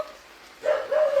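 A dog in a rural Kerala neighbourhood lets out two quick whining barks in succession after a brief quiet moment, fairly close and clear.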